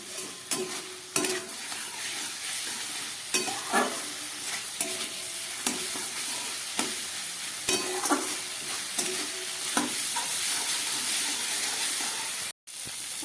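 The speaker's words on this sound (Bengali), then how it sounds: "লঙ্কার গুঁড়ো আবার এটাকে খুব ভালো করে মশলা দিয়ে কষিয়ে নিতে হবে" Spices with half a spoon of chilli powder stir-fried with vegetables for a Bengali fish curry: a steady oily sizzle under repeated scraping strokes of a spatula against the pan, with a brief cut-out near the end.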